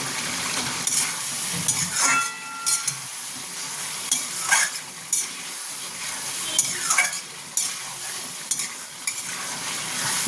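Chicken and masala with tomatoes sauté in a pan for a chicken and bottle gourd curry, with steady sizzling and repeated stirring scrapes of a spatula at close range and no talking.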